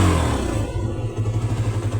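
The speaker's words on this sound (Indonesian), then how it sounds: "Sekarang ini kita geber ya." A Honda CB150R motorcycle engine runs close by with a low, throbbing pulse that swells as it revs, with some mechanical clatter.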